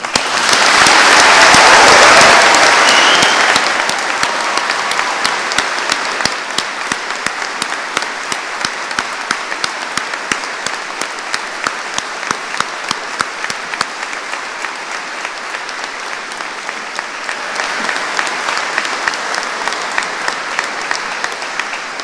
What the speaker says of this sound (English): we'll applaud our paramedics for all that they do for all of us